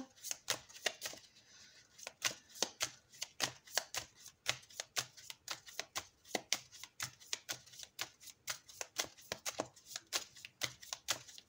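A deck of tarot cards is shuffled by hand in a rapid string of crisp riffling flicks and slaps, quiet and close with no talking.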